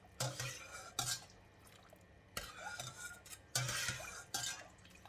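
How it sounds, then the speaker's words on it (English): A spoon stirs pepper and oyster sauce into stock in a pot for pan mee soup, making repeated metallic scrapes and knocks against the pot at irregular intervals over a light liquid slosh, with no speech. "Stir until it is well combined."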